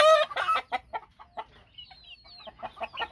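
Chickens, including half-blood gamecock chicks, cluck in short bursts close by, with a high thin crow or call rising briefly in the middle.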